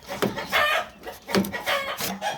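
Shamo chickens on a poultry farm crow and cluck in several loud, close bursts, calls overlapping in quick succession with no talking.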